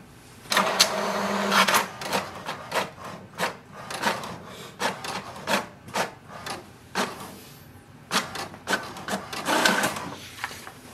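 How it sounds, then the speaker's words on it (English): An HP DeskJet 2720e inkjet printer prints an information page: repeated mechanical whirring passes and sharp clicks of the print head shuttling, with short pauses between bursts, close and alone. "wait for the printer to print a printer information page"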